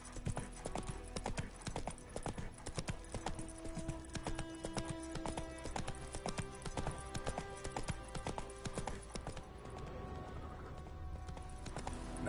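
Roach, the horse from The Witcher, gallops at speed, with hoofbeats pounding in a rapid, even rhythm, close and prominent, easing slightly toward the end.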